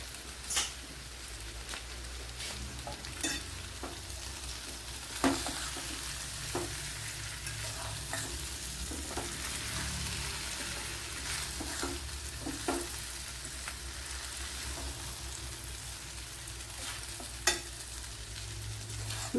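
Millet noodles sizzle steadily in masala in a pan, with soft scraping stirs and occasional clinks of the spatula, continuous and fairly quiet throughout.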